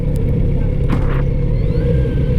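A Kawasaki motorcycle engine pulled hard under full throttle, a steady loud rumbling drone close by that holds through the whole stretch with a brief rougher burst midway.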